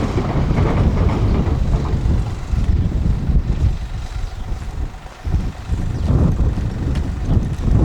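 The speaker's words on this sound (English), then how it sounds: "there's another train coming back in" A loud, continuous rumble of a GWR passenger train rolling past close by on the Plymouth to Penzance line, mixed with heavy wind buffeting, dipping briefly before surging again.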